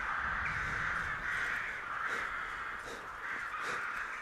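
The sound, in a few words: crows cawing in the video game Skyrim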